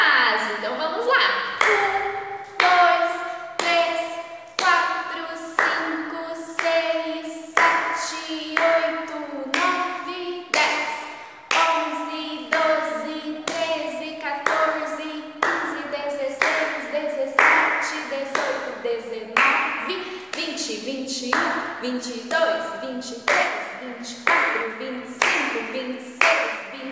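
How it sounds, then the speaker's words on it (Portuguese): Hands clap in a steady, loud, even beat, about once per second, nearly thirty times in a row, while voices chant along in rhythm with each clap. "Vamos contar até 29 batendo palmas."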